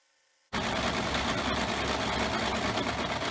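A sewing machine runs steadily while stitching a new hem on a garment after a high-low hem was cut off. It starts abruptly after a brief silence and stays loud and continuous.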